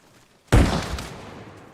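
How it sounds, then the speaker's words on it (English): A frag grenade going off in the video game Arma Reforger, one sudden loud blast after near quiet, then a rumbling tail that fades over about a second. "Frag going out."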